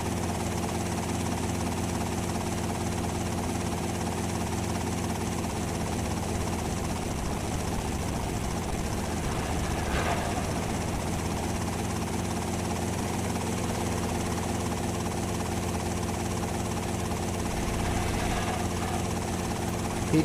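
Steady aircraft engine drone in GTA Vice City Stories, a continuous helicopter-like whirring hum that holds evenly throughout at moderate loudness.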